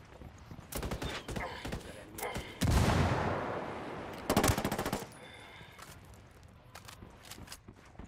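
A frag grenade goes off in Ghost Recon Wildlands, with a loud, broad blast that rumbles and fades. It is set among scattered rapid gunfire bursts in the game's battle.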